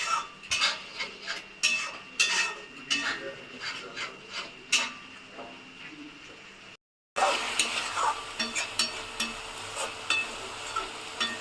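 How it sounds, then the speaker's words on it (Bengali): Garlic and tomato paste scraped and stirred around a hot pan in a Bengali kitchen, producing a series of uneven rasping strokes with a soft sizzle beneath, briefly cut off before resuming more busily. "দেখো এই যে টমেটো আর রসুন বাটাটা দিয়ে দিয়েছি, এটাকে ভালো করে একটু নেড়ে নিতে হবে"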